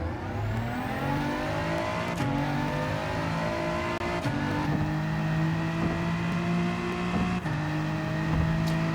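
A race car engine in a racing video game drones steadily throughout, its pitch rising and dropping with gear shifts in a repeated pattern, with faint clicks between changes.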